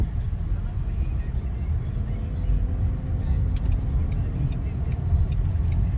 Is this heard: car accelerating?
yes